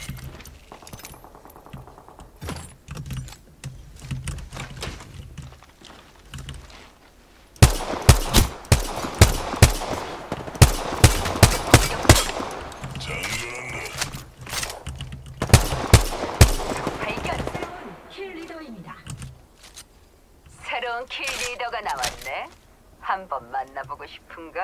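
Rapid bursts of automatic gunfire in the video game Apex Legends come in several loud volleys, separated by quieter gaps where a player talks.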